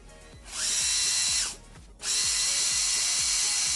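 A slow Devastator RC truck drives with a loud, high drivetrain whine that surges twice, dropping briefly between the surges, alongside a steady ticking mechanical rhythm, with no talk.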